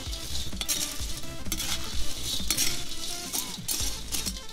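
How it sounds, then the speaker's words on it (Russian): Pasta stirred as it fries in oil inside a cauldron over a campfire: steady sizzling with repeated scraping strokes and light metallic clinks from the utensil, close and continuous without any talk. "И сразу же мешаем, чтобы это все было в масле."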